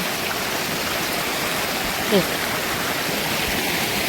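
A river stream rushes past a mountain village in a loud, steady, broadband roar that continues throughout, with a brief faint vocal sound partway through.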